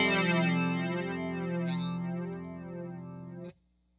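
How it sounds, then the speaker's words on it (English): Electric guitar played through a TC Electronic SCF Gold pedal set to flanger, controls at noon, a sustained chord with a sweeping, watery modulation that rings out alone, close and steady, then cuts off abruptly near the end. "Let's move on to the flanger."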